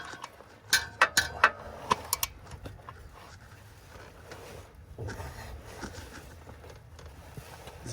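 A large socket wrench ratchets during an oil change on a first-generation Honda Pilot, with a quick cluster of sharp, close metallic clicks early on, then quieter shuffling and handling noise.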